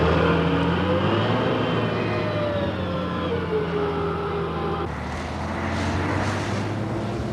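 A truck grinds steadily along a dusty washboard road in the Amazon, its engine a continuous loud drone with rattling body noise, holding an even level throughout.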